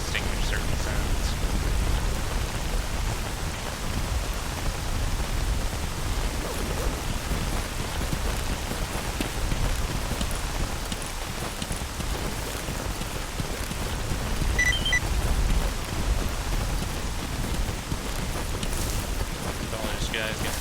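Rain in S.T.A.L.K.E.R. G.A.M.M.A., a steady, dense hiss of downpour with low rumbles throughout, a voice talking faintly beneath it.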